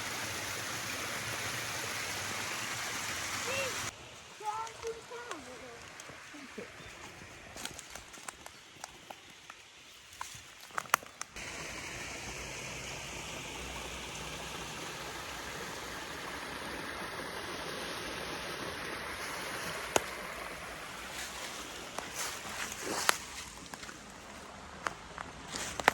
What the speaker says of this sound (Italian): Altro torrentello che deve essere lo stesso che abbiamo attraversato prima sopra.